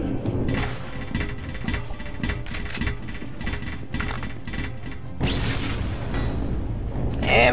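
A minigun in the video game Machine Hunt fires in dense, rattling mechanical bursts that run almost without pause, loud and close, with a sharper whooshing surge near the end.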